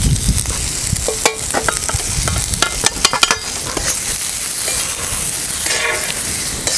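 Green chilies roast in a hot pan with turmeric and salt for a yogurt chili dish, giving a steady close sizzle broken by sharp clicks and scrapes of stirring, with no voices.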